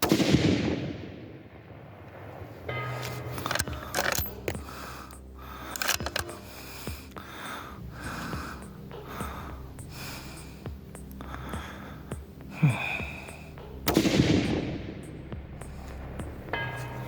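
6.5x47 rifles fire at outdoor target practice, with two sharp cracks, one at the start and one near the end, each trailing off in a rolling echo, fairly faint against quiet surroundings with small handling noises between.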